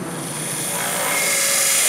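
A drill bores out the center of a PVC retaining ring for a homemade sugar-motor model rocket, giving a steady, loud high-pitched whine that holds continuously throughout without pause.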